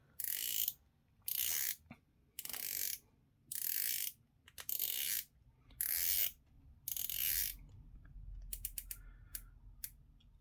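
The bezel of a Tactical Frog watch, slightly stiff, turned in seven bursts of dense close ratcheting clicks with short pauses between them, then a run of faint single clicks near the end.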